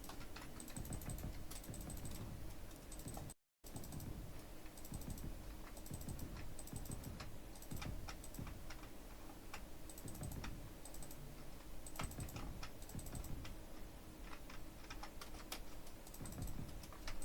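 A computer keyboard being typed on steadily during a PC game session, with close, crisp clicks and keystrokes running throughout alongside a constant background bed and no talking.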